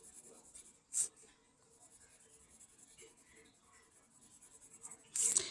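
Pencil drawing on paper with very light pressure, a faint, soft scratching texture that runs continuously near the microphone, with a couple of brief louder rustles.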